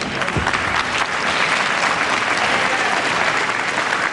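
A wrestling crowd claps and cheers steadily and loudly throughout a lightweight bout, a dense, unbroken wash of applause with no pauses.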